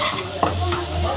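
Egg Maggi noodles sizzle in a pan while being stirred with chili powder, a steady frying hiss with a couple of soft scraping strokes, close and fairly loud, no voices.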